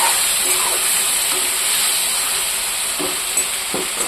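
Steady frying sizzle of oil in a pan before eggs go in, a bright hiss held evenly throughout with a few faint clicks from stirring, close by and with no talking.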